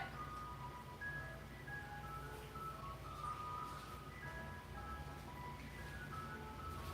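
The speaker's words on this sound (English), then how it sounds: "Yep, that is the ice cream truck, Margaret." An ice cream truck plays its tinkling electronic jingle outdoors, a repeating melody carried faintly from some distance over a low background hum, with no voices.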